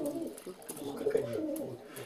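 Pigeons on a table giving low rolling coos in several overlapping bursts, close by, with faint scuffling and clicks in the background.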